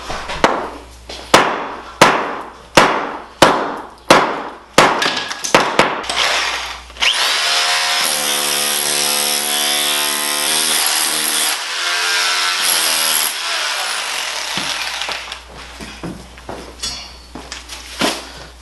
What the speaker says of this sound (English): we're actually going to use a sledgehammer first, 3-pound sledgehammer, to buzz the tile